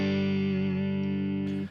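Overdriven electric guitar through a Line 6 Helix patch with a Pete Thorne 2x12 cab, big plate reverb and a light compressor, ringing a sustained chord that holds steady and is then cut off abruptly.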